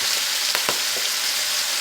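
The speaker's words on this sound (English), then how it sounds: "And while you're frying the cabbage, you just wilter it down a little bit" Copenhagen cabbage fries in a pan with a loud, constant sizzling hiss, broken by a few quick scraping stirs near the middle.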